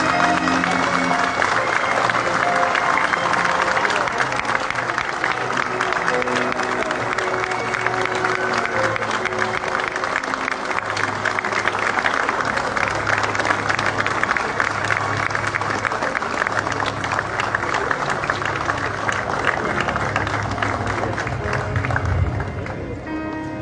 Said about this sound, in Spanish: despedimos con un fuerte aplauso a la bandera de ceremonia que nos acompañó durante este acto